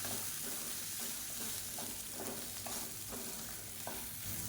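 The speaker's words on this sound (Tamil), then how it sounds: "சேர்த்துட்டு எல்லாத்தையும் நல்லா ஒரு பரட்டி விட்டுக்கலாம்." Continuous sizzling of chutney mixture frying in a pan, with repeated scraping and stirring strokes at an even rhythm, close and steady.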